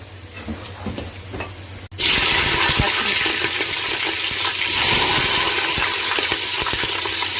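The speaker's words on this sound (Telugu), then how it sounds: "దీంట్లో జీలకర్ర వేసుకుందాం" Cumin seeds dropped into hot oil in a home kitchen pan burst into a loud, steady sizzle that starts abruptly after a quieter stretch and continues crackling near and alone.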